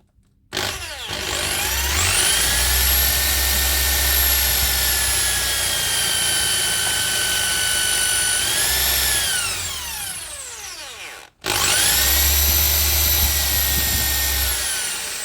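A power drill, its depth gauge set, bores holes into the neck joint of a custom bass guitar in two long, loud whining runs, the motor holding a steady pitch and then spinning down between them.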